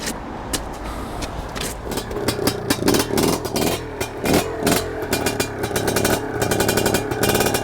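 A Fantic 200 two-stroke twin-shock trials motorcycle runs in sticky mud, its engine crackling and revving in short repeated bursts, fairly close and loud throughout.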